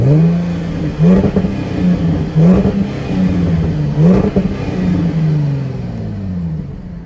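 A Jaguar F-Type S AWD front-engine sports car revs repeatedly in rising and falling surges, its switchable active exhaust loud and throaty with crackling bursts, close and continuous throughout.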